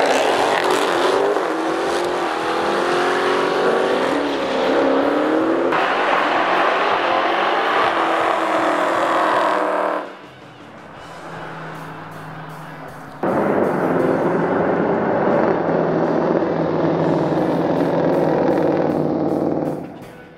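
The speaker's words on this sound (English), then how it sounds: "Let's see which one of these Hellcats can lay the longer strip of rubber." A 2015 Dodge Charger SRT Hellcat and Challenger SRT Hellcat doing burnouts, the supercharged engines roaring at high revs with screeching tyres, loud and close, sustained for long stretches with a brief drop in the middle.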